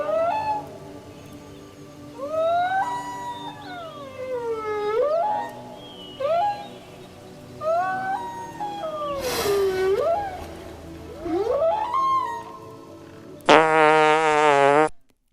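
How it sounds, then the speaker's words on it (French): Whale song with long, gliding, moaning calls rising and falling in pitch, repeated in a slow series over a soft background wash, ending with a brief bright harmonic tone. "Écoute le son des baleines."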